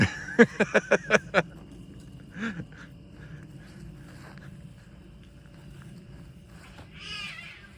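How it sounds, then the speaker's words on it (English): Cats scuffle and wrestle outdoors in a garden, a rapid burst of sharp yowls and hisses at the start, then a quieter growl and a late snarl over low background rustle and faint outdoor noise. "We got our cat's wrestling over there."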